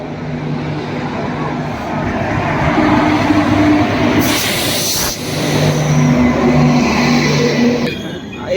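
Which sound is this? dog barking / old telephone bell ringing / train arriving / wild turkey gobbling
train arriving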